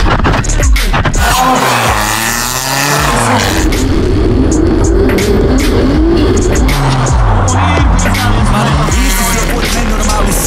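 A car does a tire burnout during a burnout challenge, the engine revving hard and loud up close alongside sustained tire squeal and skidding, with repeated rising engine sweeps and a noisy crowd-like background.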